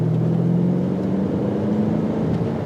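Steady engine drone from a 2019 BMW Alpina B7 xDrive under acceleration, a low humming tone rising slightly in pitch, heard from inside the cabin, continuous and fairly loud with no talking.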